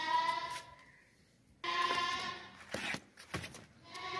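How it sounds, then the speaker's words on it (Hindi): A long-eared pedigree goat bleats loudly and close, two long wavering calls separated by a short quiet gap, followed by a few sharper, shorter bleats and rustling. "लंबे कानों वाला नस्ली बकरा है"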